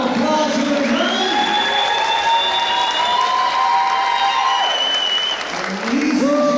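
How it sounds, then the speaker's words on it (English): A wrestling crowd at a Limitless Wrestling show in Hermon applauds and cheers steadily throughout, loud and close, while an announcer talks over the noise. "Give yourselves a big round of applause for the Hermon."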